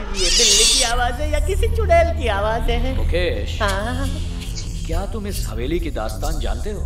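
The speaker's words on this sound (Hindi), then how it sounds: "ये बिल्ली की आवाज है या किसी चुड़ैल की आवाज है?" A cat meows in an old haveli, its cries mixed under a voice speaking Hindi throughout.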